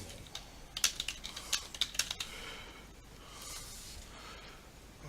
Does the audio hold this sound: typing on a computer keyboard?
yes